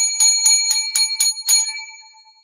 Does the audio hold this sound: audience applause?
no